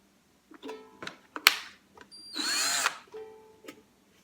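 Close-up power drill running in reverse to back out of a ukulele's wooden body: brief whirring spurts and clicks, then a longer sustained spin, followed by a few more short bursts.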